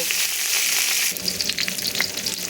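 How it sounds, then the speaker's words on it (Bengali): Cauliflower florets frying in oil in a wok, with a loud, dense sizzle that suddenly drops into crackling pops and spits partway through, close up and with no talking. "তো এরপর ভাজতে দিয়ে দিয়েছি ফুলকপি"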